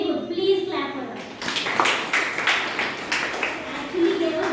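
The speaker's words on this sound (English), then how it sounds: "Please clap for her." Schoolchildren in a social science classroom break into a short burst of clapping for a classmate, quick close hand claps mixed with children's voices and a teacher talking.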